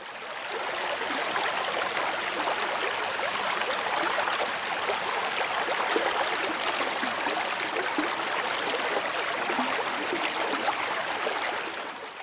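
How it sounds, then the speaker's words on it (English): Constant rushing underwater stream, water rolling over rocks with sand swept along, a dense steady wash of bubbling and gurgling noise throughout, close and even. "The water gently rolling over the rocks, the sand rushing through the water"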